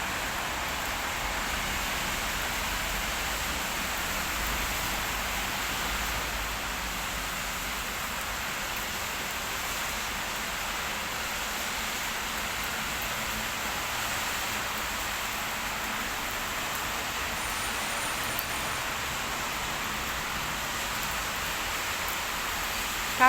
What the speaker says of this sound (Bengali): আজকে আল্লাহর রহমত, বৃষ্টি হচ্ছে।